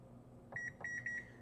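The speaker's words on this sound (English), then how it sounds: "I'm going to set a timer for about 10 minutes." Kitchen timer being set, giving a short series of faint high electronic beeps, one brief chirp followed by a few quick repeated tones, over a low steady background hum.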